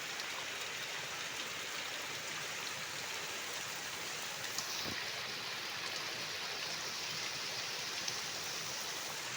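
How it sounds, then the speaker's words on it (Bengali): Heavy rain pours steadily in a dense, continuous roar, with no voices and only a faint isolated knock partway through. "প্রচণ্ড জোরে বৃষ্টি হচ্ছে।"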